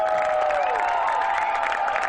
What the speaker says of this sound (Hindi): दोनों के लिए तालियां होनी चाहिए।